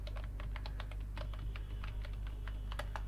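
Keys clatter in quick, irregular bursts as someone types on a computer keyboard at a desk while logging in to a Raspberry Pi 4 NAS server, heard close over a low steady electrical hum.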